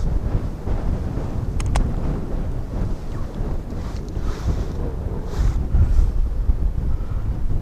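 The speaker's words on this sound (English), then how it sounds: "Oh, it's windy. It's windy, guys." Strong wind blows steadily beside a near-frozen river where trout are being fished, buffeting the microphone with a loud, rumbling low roar and a few faint clicks.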